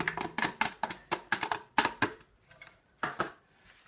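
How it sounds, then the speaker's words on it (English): Chopped onions for leek and potato soup tumble into a pan in a quick burst of dry tapping and clattering hits, close and crisp, thinning out into a few last scattered knocks. "So onions straight into the pan."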